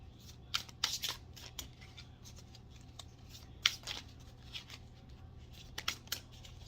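Playing cards being shuffled, a brisk ruffle of riffles and snaps in short bursts near 1 second, 3.7 seconds and 6 seconds, fairly quiet and close against a steady low hum, with no talking.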